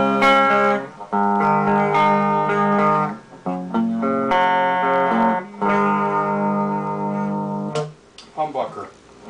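Clean electric guitar through a Xam amp on the single-coil bridge pickup with no echo, playing sustained chords and notes in several phrases with short breaks, loud and close, no talking.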